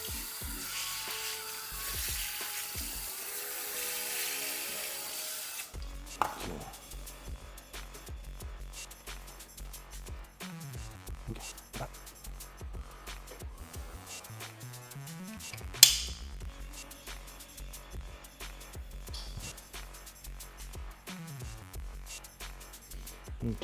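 Water spray rinsing a car's undercarriage while brake dust crust is cleaned off, giving a steady hiss for the first several seconds before it cuts off and other, lighter sounds follow.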